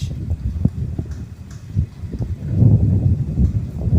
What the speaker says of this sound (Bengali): প্রচণ্ড বাতাস, তার সাথে পানির খেলা